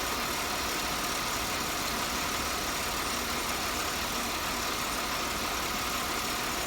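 A General Motors car idles with a failing fuel pump, a steady droning engine hum with a broad hiss on top, running continuously and fairly loud with no voices.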